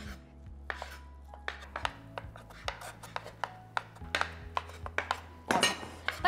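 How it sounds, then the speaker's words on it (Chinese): A knife chops chicken finely on a board in a home kitchen, with a run of sharp, close thuds at an uneven, quickening pace and some clinks from utensils, ending in a burst of rapid strokes; no one speaks. "一樣剁到佢碎曬。"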